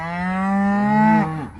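A bull gives one long, loud, deep moo at close range outdoors on a farm. The moo holds steady for over a second, then drops and fades away.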